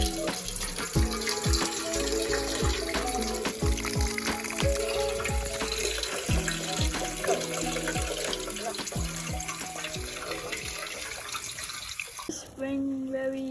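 Water flows continuously from the village spring at Maughendum, a steady splashing rush that fills the whole stretch, with a sharper change near the end.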